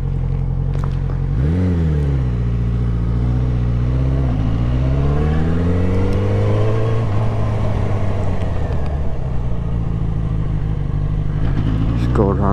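A motorcycle on a Mod 1 test course revs up through second and toward third gear, its engine note climbing in pitch, dropping at a shift, then rising again, loud and close, with an instructor's voice talking over it.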